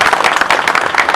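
Brief burst of audience applause at a road safety awareness campaign event, close and dense clapping for a short moment.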